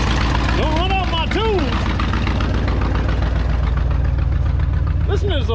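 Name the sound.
old Ford F100 truck engine running rough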